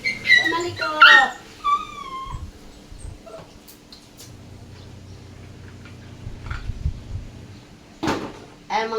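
A puppy being bathed with shampoo lets out a few high, wavering whimpers near the start, followed by scattered knocks, splashes and handling noises at close range.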